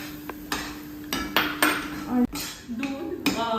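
Wheat flour sheera being stirred in a pan after milk is added, with sharp metallic scrapes and clinks of a spoon against the pan at an uneven rhythm over a faint sizzle.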